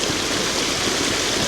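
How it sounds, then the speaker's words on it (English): Water rushes over waterfalls and down a stream, a steady, loud broadband roar with no pauses or voices. "And I'm up here by the waterfalls"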